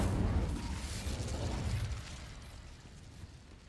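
An Incendio fire spell cast in Hogwarts Legacy, a soft whooshing burst that fades out as a dull, decaying roar, moderately faint and with no talk.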